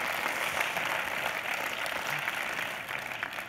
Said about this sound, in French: On peut applaudir Grégoire.